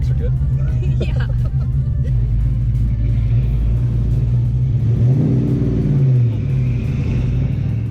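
A 1986 Ford Mustang Fox-body LX coupe that is not running right revs and accelerates with a loud, rumbling mid-range engine note, heard close, while people talk over it.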